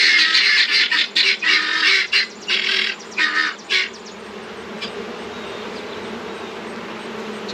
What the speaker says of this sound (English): So, y'all, that's guinea fowl. You all can hear the guineas.